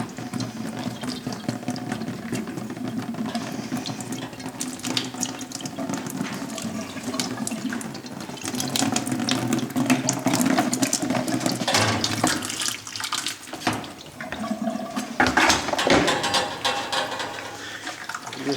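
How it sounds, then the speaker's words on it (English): Water rushes and splashes steadily from an opened valve as a gas water heater system is drained, a continuous close hiss and gurgle with shifting surges and no talk. "I'm going to open it up to drain the water out of the system."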